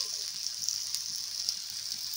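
Oil sizzles steadily as a thalipeeth fries on a hot griddle, a close hiss of frying under faint small clinks, with no voices.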